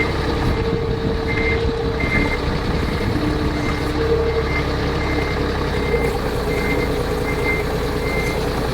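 A forklift reverses during a driving class, its backup alarm beeping in a steady repeating pattern over a constant low engine rumble, fairly close.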